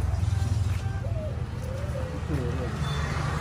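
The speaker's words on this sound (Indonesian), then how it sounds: "itu merpati gue pak" A pet pigeon coos in low, soft, wavering phrases, close by, with a steady low rumble underneath and people talking nearby.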